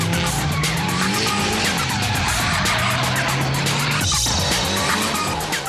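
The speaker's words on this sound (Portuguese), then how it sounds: "a roda traseira desses carros dá uma paradinha, né? É o uso, olha lá, do freio de mão na entrada da curva" Drift cars skidding into a curve with the handbrake, tires squealing in long continuous screeches over roaring engines, loud and close throughout.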